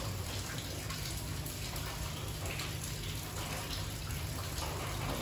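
Heavy rain pours steadily in a dense, even hiss of water with no breaks, loud and close throughout.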